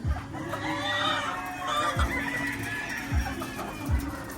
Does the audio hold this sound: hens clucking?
yes